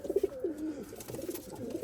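Pigeons coo nearby in soft, rolling bursts, several throaty calls following one another over a quiet background.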